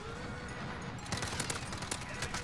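Rapid bursts of automatic gunfire from Modern Warfare gameplay crackle loudly in the second half, following a steadier background din.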